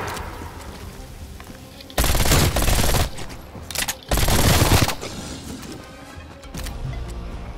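Rapid SMG fire in Call of Duty Black Ops Cold War Outbreak, two loud sustained bursts of roughly a second each separated by a brief pause, with quieter game ambience before and after.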